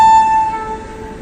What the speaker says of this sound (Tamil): ஆன் டைம் 7:55க்கு கரெக்டாக அகமதாபாத் ஜங்ஷன்லேருந்து நம்ம ஜன் சதாப்தி டிபார்ட் ஆக ஸ்டார்ட் ஆயிடுச்சு